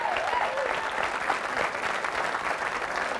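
A burst of applause from a small group runs steadily throughout, dense clapping at a constant loudness.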